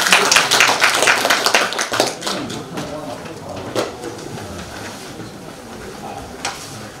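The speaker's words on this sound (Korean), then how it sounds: "박수로 맞이해 주세요." Applause at an academic conference welcomes a speaker to the podium, with a burst of loud clapping that thins out and fades into scattered claps and room noise.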